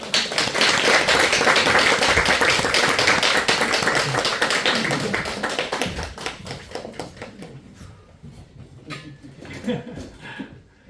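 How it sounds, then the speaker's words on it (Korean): A church congregation gives welcoming applause for a visiting seminary professor, a thick, sustained round of clapping that thins out and scatters into a few last claps, with some voices near the end. "그냥 환영의 박수 하도록 하겠습니다"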